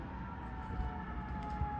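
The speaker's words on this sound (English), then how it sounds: "As an ambulance blare in the background, we'll go forward." An ambulance siren wails faintly in the background as a steady, sustained tone over low rumbling noise, distant and never rising above the murk.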